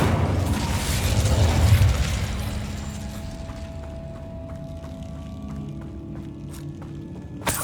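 A fire spell blast in a video game bursts out as a loud, roaring whoosh that swells and then fades over several seconds, leaving faint crackling and scattered clicks behind.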